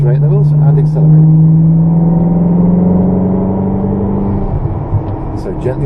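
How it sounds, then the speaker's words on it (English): A supercar accelerates on the Rockingham race track, its engine holding a loud, close drone that climbs in pitch and then eases, while an instructor talks over it. "Straighten the wheels and accelerate."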